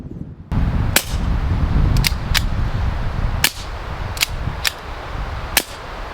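Six sharp suppressed gunshots, fired through a CGS Hydra suppressor, ring out at irregular intervals over a steady outdoor background rumble, each a quick muffled crack.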